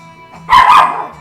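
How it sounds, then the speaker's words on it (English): A pet dog gives a single short, loud bark up close, alone with no talk over it. "Please don't bark."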